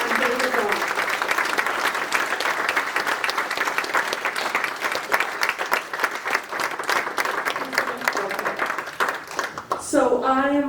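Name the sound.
audience applause for an author talk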